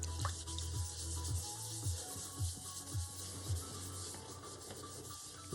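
Sanding by hand with 800 grit sandpaper in a string instrument workshop, a soft rhythmic rubbing of regular back-and-forth strokes roughly every half second, close and fairly quiet with no talk.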